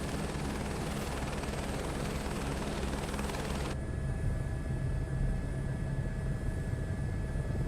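A helicopter in Microsoft Flight Simulator 2024 drones continuously with a low rotor thump and engine whine, loud and close, the texture shifting partway through as the perspective changes.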